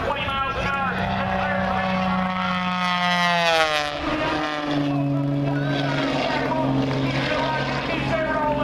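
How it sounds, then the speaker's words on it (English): A stunt airplane flying low beneath a ribbon at a twilight air show in Battle Creek, Michigan, its engine droning loudly with a strong pitch shift as it passes, and a commentator talking over it. "As Skip goes down underneath the low ribbon."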